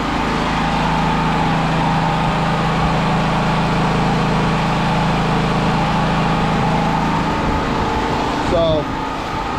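A Firman T07573 tri-fuel generator engine idles steadily and loudly up close outdoors in snow at a cabin, a constant low droning hum with a brief change near the end.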